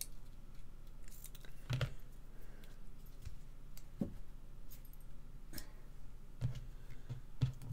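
Scissors trim card for a handmade sketch card: about five quiet, crisp snips spaced a second or two apart, close by and alone in a hushed room.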